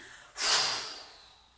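One forceful exhale during a sophrology exercise comes as a sudden, close, breathy rush of air that swells quickly and then fades away over about a second, with no talking.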